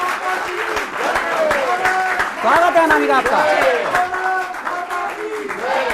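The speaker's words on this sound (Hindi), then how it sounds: "एक बार जोरदार तालियां बजाइए इनके लिए।" An audience at a Holi poets' gathering applauds a poet, a full, sustained wash of clapping from many hands, while a host speaks over it on a microphone.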